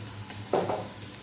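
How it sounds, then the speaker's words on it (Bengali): Potatoes coated with salt and turmeric fry in hot oil, giving a quiet, steady sizzle with a couple of brief stirring scrapes partway through; no one speaks. "দেখুন আলুগুলো কিন্তু আমি বেশ লাল লাল করে ভেজে নিয়েছি"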